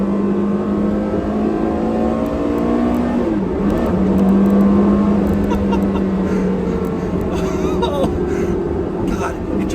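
Porsche Carrera GT engine revving, its rising and falling whine climbing quickly in pitch, loud and close beneath someone talking.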